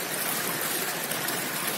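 Steady rushing water flows continuously into an open channel of a triangular V-notch lab setup, a broad even hiss, close and unbroken.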